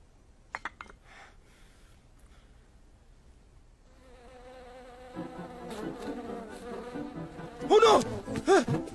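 A bee buzzes around people indoors in a drama scene, a thin wavering drone that builds over several seconds and grows louder near the end, with brief knocks early on.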